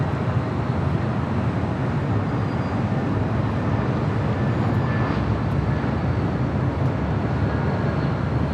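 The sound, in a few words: large airliner arriving at LAX airport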